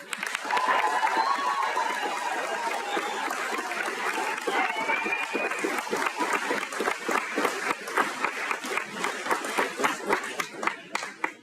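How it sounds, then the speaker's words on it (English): A large crowd applauds at a college commencement ceremony, a dense roar of clapping with some cheering and chatter mixed in that thins toward the end into more separate claps. "So let's give a round of applause to all of them."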